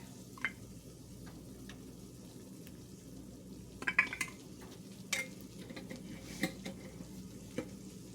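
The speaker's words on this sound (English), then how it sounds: "we're just going to stir that around and make it into a roux" Flour is stirred into hot fat in a pan to make a roux for brown onion gravy. A quiet, low sizzle runs under scattered spoon scrapes and light clinks against the pan.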